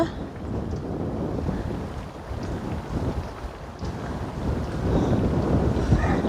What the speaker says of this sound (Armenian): Քամի է այ մարդ։